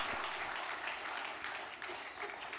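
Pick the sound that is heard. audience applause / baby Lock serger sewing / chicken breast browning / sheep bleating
audience applause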